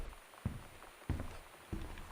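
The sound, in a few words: footsteps in the video game Gone Home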